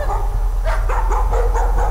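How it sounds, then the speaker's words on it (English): A dog in the horror game Layers of Fear gives a few short, close barks and yips over a low rumbling background. "Oh, doggy!"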